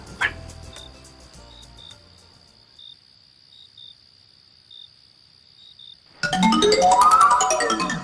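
A person's voice imitates a dog, breaking into a rising, whiny yelping bark at the end after several seconds of steady cricket chirping and faint, sparse sounds.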